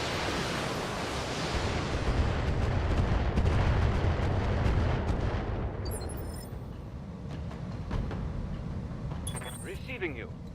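Mech weapons firing in BattleTech, heavy rumbling barrages with sharp bursts and crackles, loud at first then thinning, with radio-style voices talking over the combat.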